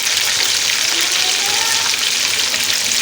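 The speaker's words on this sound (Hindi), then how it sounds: "ये देखिए ये भी हमारी फिश फ्राई हो रही है" Fish sizzling steadily in hot oil while being fried for a Pakistani-style fish masala, a dense continuous crackle close by with no break across the whole stretch.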